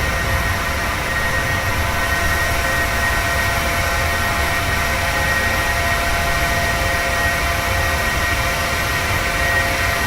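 Jet engines of a PMDG 737-600 in Microsoft Flight Simulator 2020 during the climb, a steady loud broadband roar with a constant high whine, continuous and unchanging, with no talk.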